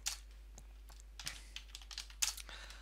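Keys clatter on a computer keyboard as a terminal command is typed, a quick irregular run of light clicks, close and fairly quiet over a low steady hum.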